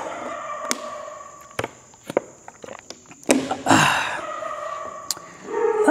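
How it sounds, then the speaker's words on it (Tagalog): In a large old mansion, a dog barks a few times at a distance, alongside scattered footsteps and knocks, with a louder burst near the middle and no talking. "Ayun na yung aso."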